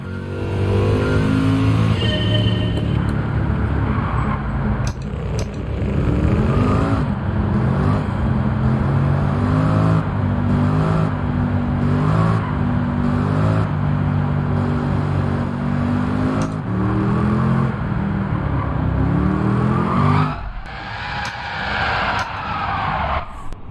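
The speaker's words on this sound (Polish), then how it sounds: "ten samochód w rzeczywistości, jak on pierdnie, to ci uszy rozwala. A posłuchajmy, jak on brzmi tutaj." Mercedes C63S engine in Gran Turismo 7 revving hard, with rising and falling harmonic sweeps through gear changes, loud and continuous, with a brief drop near the end before it climbs again.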